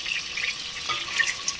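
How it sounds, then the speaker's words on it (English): Vegetables frying in a fair amount of oil in a pan, a steady soft crackling sizzle running throughout with small pops, no voices. "I also want to seal the vegetables as well once they're slightly cooked through"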